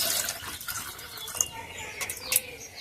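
Rice-washing water poured onto a strawberry plant in a rooftop garden gives a soft, close trickle and splash for a few seconds, with faint bird-like chirps.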